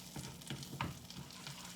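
An omelet sizzles in a frying pan, a steady close crackle and hiss with soft scrapes and small clatters running through it, and no voice over the sound.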